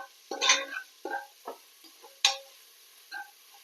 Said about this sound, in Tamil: ஒரு கை அளவுக்கு புதினா சேர்த்து நல்லா வதக்கி விட்டுடலாம்